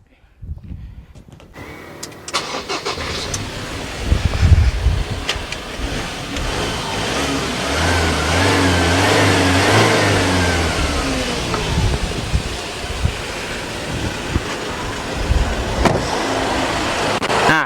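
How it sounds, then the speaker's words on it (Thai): A Mazda BT-50 pickup truck engine cranks over and settles into a steady, smooth idle with a low rumble, close by, running continuously with no talking. "นี่ครับเสียงเครื่องครับ เสียงเครื่องค่อนข้างจะนิ่มมากเลยนะครับ"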